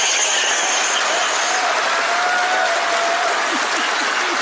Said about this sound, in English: that's a Hungarian crowd cheering for President Trump